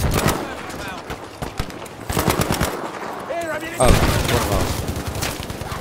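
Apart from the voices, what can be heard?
gunshots in the video game Battlefield V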